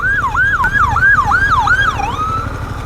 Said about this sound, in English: I don't know why they put their siren on.